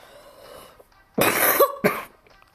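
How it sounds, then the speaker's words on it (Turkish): A single harsh, close cough from a person with swollen tonsils bursts out, followed by a shorter second cough, against a quiet background. "videoda arada sırada öksürürsem falan özür dilerim"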